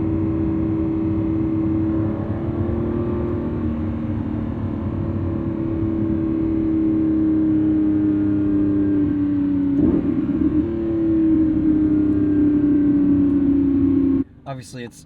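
Lamborghini Revuelto's 1,001hp V12 drones steadily from inside the cabin on a night drive, a loud, sustained engine tone slowly shifting pitch, with a brief surge near the end before cutting away.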